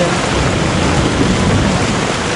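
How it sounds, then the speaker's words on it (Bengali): Heavy, steady downpour roaring without a break outside a shop, a dense wash of rain noise with a faint low rumble underneath. "মুষলধারায় বৃষ্টি হচ্ছে, প্রচুর জোরে বৃষ্টি হচ্ছে"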